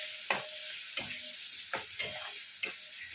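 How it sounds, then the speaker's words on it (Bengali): Papad curry being stir-fried in a pan, with five evenly spaced spatula scrapes and clacks over a constant sizzling hiss, close and moderately loud. "এটাকে ভালো করে কষিয়ে নেবো।"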